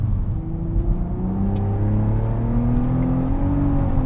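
An Audi TT VR6 engine, about 500 hp, accelerating smoothly, a loud, steady rising drone with a low rumble, heard close from inside the cabin with no talking.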